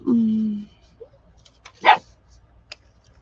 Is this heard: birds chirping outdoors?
no